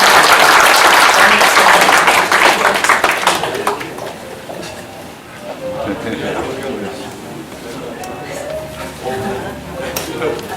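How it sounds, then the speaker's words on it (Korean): Big audience applause at a book-launch concert, loud and dense at first, then thinning out and fading within a few seconds as people begin talking. "큰 박수를 맞아주시기 바랍니다."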